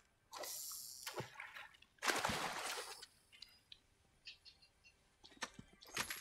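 Watery splashes in an online shooter game, two broad bursts of spray followed by scattered smaller drips and splatters, moderately loud and standing alone without talk.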